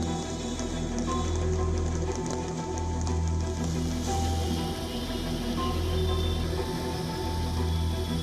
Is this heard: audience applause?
no